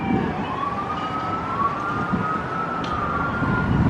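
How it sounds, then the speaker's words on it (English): An ambulance siren wails, rising and holding steady at moderate distance over low traffic rumble, continuous for a few seconds. "Hearing sirens, but that's actually an ambulance coming out on the call right now."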